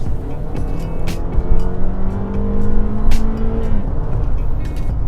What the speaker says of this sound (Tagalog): the transmission really downshifts eagerly, as in it will really downshift instantly and at the correct gear